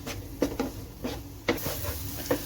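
Onion and spice masala frying in oil for masala bread, stirred with a spoon that taps the pan in a few soft, irregular knocks over a faint steady sizzle, close by.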